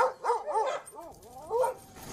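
Several dogs at an Arctic dog farm of about 110 dogs bark and yip in quick overlapping bursts, close and moderately loud, with whimpering tones between.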